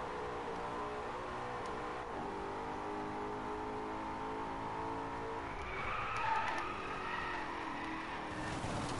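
Car tyres skid and squeal while drifting in the racing game Driveclub, over a constant droning engine, with the squeal sharpening and growing louder partway through.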